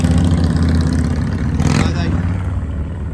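A Harley motorcycle engine runs at a cars and coffee meet, a loud, low rumbling throb close by, with a brief surge of higher noise midway and a speaking voice partly over it.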